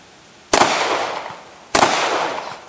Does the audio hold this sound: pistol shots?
yes